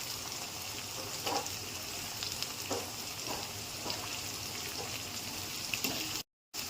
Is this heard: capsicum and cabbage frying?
yes